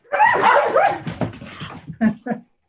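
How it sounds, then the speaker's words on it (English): Dogs bark and yip close by in a home, loud bursts followed by shorter yelps, with no other sound around them. "My dogs decide they think we've been on long enough"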